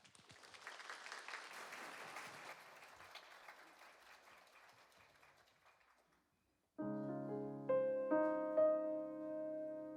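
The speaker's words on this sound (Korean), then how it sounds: "박수로 맞이하겠습니다." Church congregation applause, a soft, fairly distant patter of clapping that fades out over several seconds, followed by sustained instrumental music with piano-like notes.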